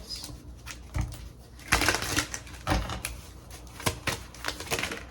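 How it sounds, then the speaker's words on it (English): Stiff tarot cards are shuffled and snapped in quick irregular bursts of papery clicks and riffles, close and fairly quiet, with no talking. "shuffle this card up."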